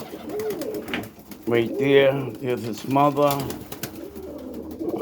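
Pigeons coo repeatedly inside a loft, their soft rolling calls close and clear while someone talks over them.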